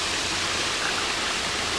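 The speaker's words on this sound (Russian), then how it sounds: "Это водопад, я же тебе говорю. Из трубы." Water pours from a pipe into a collector like a small waterfall, a constant broadband rushing roar, steady and even with no voices.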